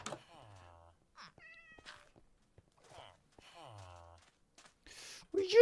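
Several cats meowing in the video game Minecraft, a few short, quiet mews spread across a mostly silent stretch, followed by a louder sound at the end.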